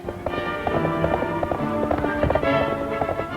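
Rhythmic clip-clop of horses' hooves over a busy, noisy background, steady and fairly loud throughout.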